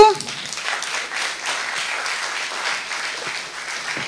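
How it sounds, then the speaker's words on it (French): Audience applause at an awards ceremony during a trophy presentation: a steady wash of many hands clapping that starts at once and holds at an even, moderately loud level for about four seconds, with no talk over it. "on peut applaudir euh, la préfète Renadourou."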